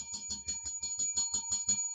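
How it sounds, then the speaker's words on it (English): A bell is rung rapidly again and again during a live stock-market stream, giving about ten bright, evenly spaced metallic dings over two seconds, loud and close with no talking. "I love ringing that freaking bell."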